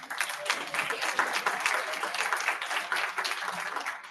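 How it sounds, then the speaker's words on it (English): A membership meeting audience gives a round of applause as a speaker comes up, dense steady clapping from a room of people, fairly close and even for the whole stretch with no talking over it. "Let's have a big round of applause for Julie."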